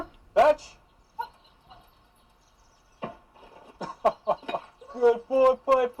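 Piper, a border collie, gives a sharp bark, then a run of quick yips and whimpery barks that grow denser toward the end, heard close with a voice talking nearby.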